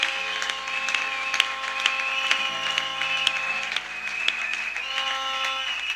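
A church congregation applauds in praise, a sustained patter of clapping with sharp individual claps rising over it, while sustained tonal sounds ring underneath at moderate volume.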